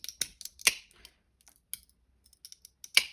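Scissors snipping through thin metal jar lids to make mosaic pieces for a coaster: a handful of sharp, close clicks and snips spaced irregularly, with quiet gaps between.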